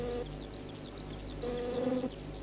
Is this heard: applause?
no